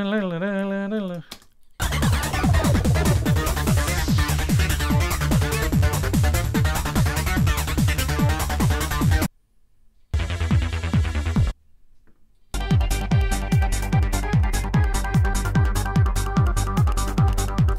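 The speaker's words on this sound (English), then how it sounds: "that sort of filtered organ-y sound you hear a lot" Bouncy, filtered organ-like synth playing a rhythmic pattern with a pulsing low end, cut by brief silent gaps.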